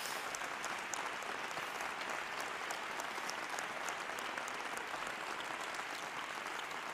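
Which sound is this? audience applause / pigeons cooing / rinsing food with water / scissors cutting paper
audience applause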